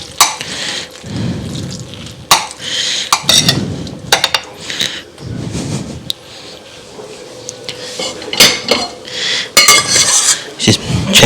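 Pot and utensils clanking on a kitchen stove while macaroni noodles are spread out for homemade mac and cheese; intermittent close metallic knocks and scrapes with quiet stretches between, no talking.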